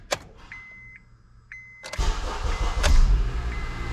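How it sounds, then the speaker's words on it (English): A 2006 Honda Accord being started after a downstream oxygen sensor replacement: a few quiet dash chimes, then the starter cranks and the engine catches and settles into a close, steady idle. "And should be able to start the car up."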